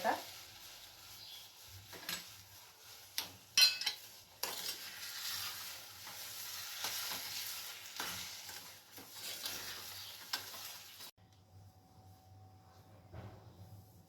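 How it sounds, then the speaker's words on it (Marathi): Raw mango pieces in sugar syrup are stirred in a pan on the stove, with soft, intermittent scraping and clinking over a low simmering hiss that cuts out near the end. "आता सारखं हलवत राहायचं, म्हणजे साखर विरघळून जाईल"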